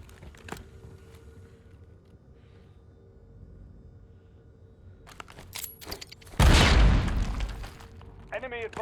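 Flashbang grenade going off in Call of Duty Warzone: after quiet radio-style game callouts, a sudden loud burst hits and decays into a ringing rumble, with a voice speaking near the end.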